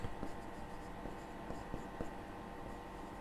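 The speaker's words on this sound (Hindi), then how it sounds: "पहले मैं लिख देता हूं CRR, SLR," Marker or chalk strokes on a classroom board during a banking lecture, a series of short scratchy taps and swipes at irregular intervals, faint against a quiet hiss with no talking.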